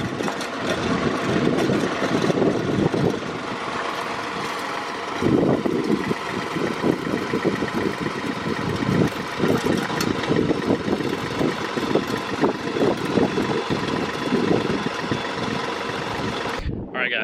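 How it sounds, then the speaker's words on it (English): A tractor engine runs while an auger digs post holes for a building, a steady loud rumble throughout with slight surges in load, and people talk over it at times. "So he's running the tractor right now and we're getting these holes dug"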